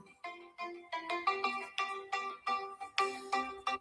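A phone ringtone plays a bright, melodic pattern of repeated electronic tones in a regular rhythm, loud and close with nothing else under it.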